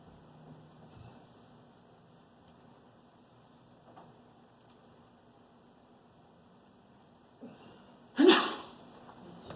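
A single sharp sneeze bursts out near the end of a quiet stretch in a lecture room, following a soft intake of breath.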